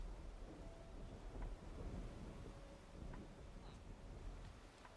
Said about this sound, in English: there's just some heavy rain.